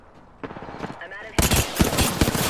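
Rapid automatic gunfire in the video game Apex Legends: loud, dense bursts of shots break in after a quieter opening with a voice, then keep rattling close and heavy to the end.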